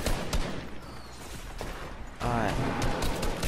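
SMG fire in a video game crackles in short bursts of rapid shots, with a louder stretch in the second half, while a player speaks briefly over it.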